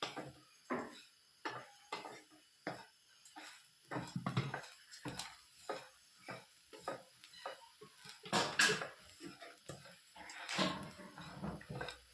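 Grated coconut roasting for chammandhi powder is stirred in a pan, giving regular scraping strokes about once a second over a faint dry sizzle.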